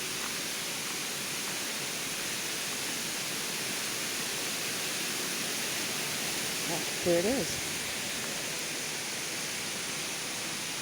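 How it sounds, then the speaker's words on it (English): Steady rushing water from a river near Amicalola Falls fills the scene with continuous hiss, and a voice briefly speaks over it. "So here's the river."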